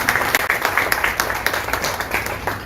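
Audience clapping at a classical Indian music performance event, a dense, steady round of applause from a crowd that continues throughout.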